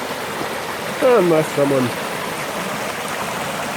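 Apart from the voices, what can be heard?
flowing water of Dora Creek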